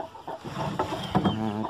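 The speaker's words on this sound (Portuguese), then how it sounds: "E aqui tá a galinha com os mais novos que saíram." A hen clucks among her newly hatched chicks in a backyard flock, low close clucks over a background of faint high peeping, steady and continuous.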